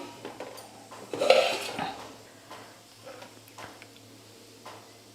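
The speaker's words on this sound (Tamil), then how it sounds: "ஒரு தட்டு போட்டு மூடிடலாம்." A plate is set over a pot of pepper rasam on the stove, making one sharp ceramic clink followed by a brief scrape and softer settling clatter in a quiet kitchen.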